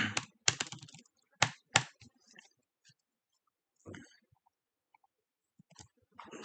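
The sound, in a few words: typing on a computer keyboard while coding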